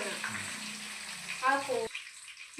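Peanuts, curry leaves and dry chillies fry in hot oil in a pan, a soft steady sizzle that briefly swells and crackles as more goes in, then settles quietly, with no talk.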